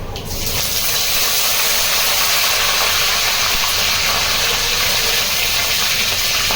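Curry leaves sizzle in hot oil already crackling with cumin seeds for poha, a loud, continuous close hiss and spatter that holds steady throughout.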